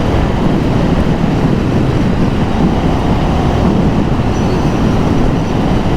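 A 2024 KTM 1390 Super Duke R motorcycle at riding speed: a loud, dense, unbroken roar of engine and rushing air that holds steady from start to finish, with no voices.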